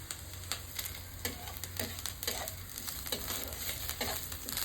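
Onions frying in oil for a Bengali-style silver carp curry, a continuous sizzle punctuated by frequent sharp stirring scrapes and crackles, close and steady.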